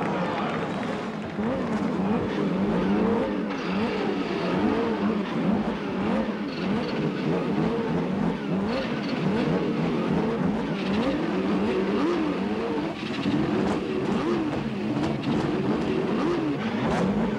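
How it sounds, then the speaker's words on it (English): A field of CART Indy race cars at the 1992 Milwaukee race fires up and revs, many engines droning and rising in overlapping waves under crowd noise, steady and loud throughout. "gentlemen, start your engines!"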